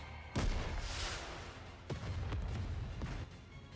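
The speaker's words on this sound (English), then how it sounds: "What an explosion!" Booming blasts from a rocket launcher in the NIKKE video game: a heavy explosion near the start, then two more bursts, over a continuous loud rumble with no talking.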